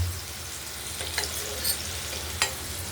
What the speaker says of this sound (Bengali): পনিরটি ভাজা চলছে